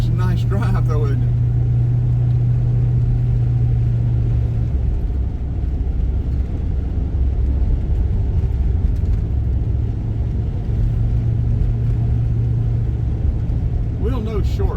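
A car cruises along a rural fall road near Dalton, Georgia. Steady, close road and tire rumble with a low engine hum runs throughout without a break.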